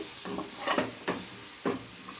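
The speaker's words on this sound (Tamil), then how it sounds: "பாருங்கள், தக்காளி நல்லா குழைவாக வதங்கிடுச்சு" Tomatoes sauté in a pan until soft and mushy for kara chutney, a soft sizzle broken by three or four scraping stirs, close and fairly quiet.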